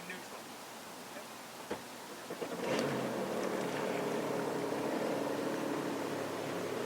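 Deluxe Waverunner jet ski idling in forward toward a dock, a low steady engine drone that grows slightly louder after a few light knocks, with faint water and wind noise around it.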